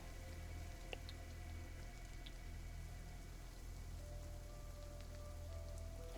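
Steady rain falls outdoors, a faint, even patter on surfaces that continues without pause and with no voices.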